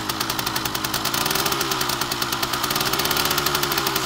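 An old machine's engine revs up under light throttle, a steady knocking mechanical rumble rising in pace, loud and close with no talk over it.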